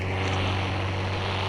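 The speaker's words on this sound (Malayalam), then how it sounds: "പ്ലെയിൻ" An airplane passing overhead gives a steady, droning engine hum with a low tonal rumble, continuous and moderately loud throughout the short stretch, with no voices.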